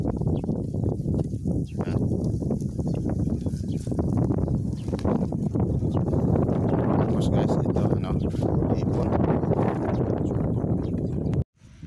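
Strong wind buffets the microphone outdoors near water, a steady, loud rumbling roar that lasts throughout and cuts off abruptly at the end.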